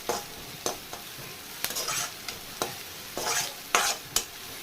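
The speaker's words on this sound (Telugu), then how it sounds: "ఉల్లిపాయలు బాగా వేగాయి" Onions fry in a pan for chicken fry piece biryani, with steady soft sizzling broken by about eight sharp scraping stirs of a spoon against the pan, close and clear.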